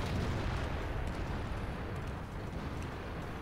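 A tank cannon fires in the game World of Tanks amid dense, steady rumbling battle noise, with no distinct separate blast standing out.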